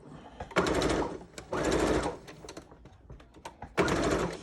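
A home sewing machine stitching a fabric face mask, running in bursts of rapid mechanical whirring separated by short pauses and clicks, close and fairly loud, with an uneven rhythm as the machine acts up.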